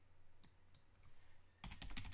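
Quick bursts of computer keyboard typing, a few isolated clicks early on, then a dense run of keystrokes near the end over a low steady hum, with no one speaking.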